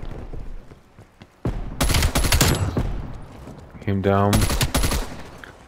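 Rapid bursts of automatic gunfire crack loudly and up close in Call of Duty Black Ops Cold War, coming in two long volleys with a short pause between them, while a player speaks briefly.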